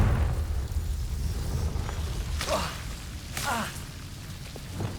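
Confringo blasting spell in Hogwarts Legacy, fiery whooshing bursts and crackling blasts against a low rumbling game ambience, moderately loud with a couple of sharp swishes.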